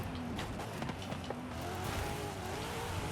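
A widebody Corvette C8 tearing around a Forza Horizon 5 rallycross course, its engine a steady, loud, sustained roar with a shifting pitch and faint tire noise, continuous throughout.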